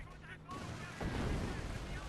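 A grenade explosion in a World War II real-time strategy game, a dull low boom swelling up midway and rumbling on, mixed with distant battle noise and faint commentary underneath.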